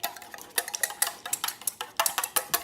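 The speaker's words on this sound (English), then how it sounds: "Whisk this up." Whisk scraping and tapping against a bowl while mixing a seafood seasoning blend during freezer meal prep, a quick irregular run of light metallic clicks and strokes, close and fairly quiet with no talking.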